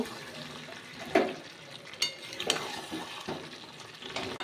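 Mutton stir-fried with fried papaya in a pan, spatula scrapes and metallic knocks against the pan in irregular bursts over a soft background sizzle, close up with no talking.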